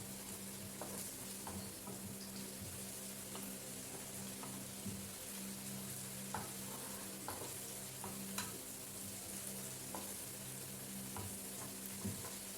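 Chopped garlic sizzles steadily in a pan, a soft continuous frying hiss with occasional scrapes and clicks of a spoon stirring it, close and fairly quiet with no voices.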